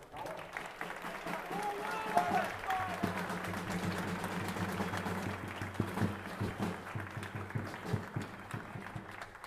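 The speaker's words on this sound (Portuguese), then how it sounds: "Uma salva de palmas" A crowd at a political speech applauds steadily over a low murmur of voices and some talk, the clapping fairly distant and soft, holding for around nine seconds.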